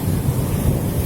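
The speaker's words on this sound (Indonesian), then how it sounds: "Gede banget ya ombaknya." Big Red Sea waves crash on a beach near Jeddah, a loud dense low rumble of surf mixed with wind buffeting the microphone.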